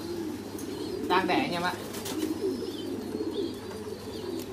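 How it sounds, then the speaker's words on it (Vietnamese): American giant pigeons, among the largest pigeon breeds, coo softly and nearby beneath someone speaking, with a brief louder burst of calls in the middle over steady background hum. "Đây anh em ạ, đây là bồ câu gà Mỹ nhá"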